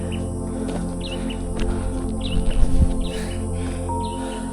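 Several small birds chirp and tweet intermittently along a mountain trail on Gunung Tampomas, their calls faint to moderate over a steady low outdoor rumble and hum.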